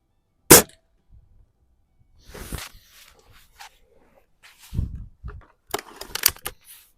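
A Xisico XS46u underlever .22 caliber air rifle fires one sharp, loud shot, followed by quieter clicks and mechanical clatter from handling and reloading, with no talk.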